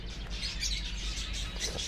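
Caged birds in a newly built two-tier aviary chirp and tweet softly and steadily, a faint continuous twittering with no voices.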